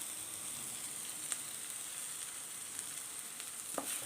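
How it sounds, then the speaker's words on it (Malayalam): Sliced okra sautés in a pan for egg thoran, a soft, even sizzle and crackle heard close up on its own, with a couple of light taps near the end. "ഈ വെണ്ടയ്ക്ക ഒന്ന് നന്നായിട്ട് വഴണ്ടു വരണം"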